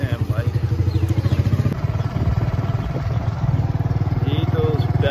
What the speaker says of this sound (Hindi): पुरानी बाइक अभी निकाली है, चलते हैं बाइक